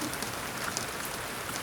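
Rain falling outside a house while the door is closed, a dense bright hiss with scattered droplet patters, fairly loud and steady with no voices.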